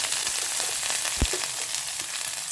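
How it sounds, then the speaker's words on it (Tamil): Coconut, ginger, garlic and chillies sauté in a hot pan with a dense, continuous sizzle close by, broken once by a single dull knock of a spoon, with no talking. "நாம் வதக்கிக்கலாம். இப்போ நாம் தேங்காய் போட்டுக்கலாம்"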